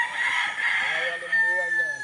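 A fighting stag rooster crows once, a loud, drawn-out call held for about two seconds and heard clearly without other sounds.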